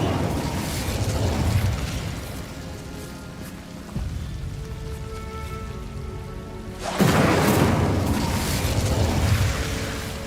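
In Hogwarts Legacy, an Incendio fire spell in the video game bursts out as a loud crackling rush with a whoosh. It fades, then flares again with a sudden loud surge near the end.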